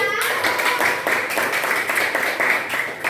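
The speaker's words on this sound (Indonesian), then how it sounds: "nika pantas nggih tepuk tangan untuk kita" A class claps hands together in a brisk, loud patter of overlapping claps that carries on steadily and close throughout, with a brief voice at the start.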